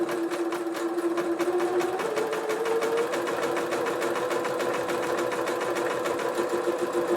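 A sewing machine stitches a buttonhole with a fast, even run of needle clicks and motor hum, close and continuous throughout with a slight shift in pitch partway.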